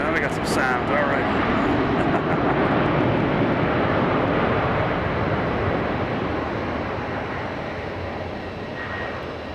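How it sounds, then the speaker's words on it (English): A fixed-wing airplane landing at Boston Logan Airport makes a steady, broad engine roar that stays loud and fades slightly at the end, with faint voices and wind mixed in. "There's a plane coming in that declared an emergency, but they're still flying, so we'll see what happens when they land."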